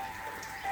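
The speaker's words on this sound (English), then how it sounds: "It is raining." Light rain falls steadily on a rainy day among flowers, a soft, even patter heard alone at a low level.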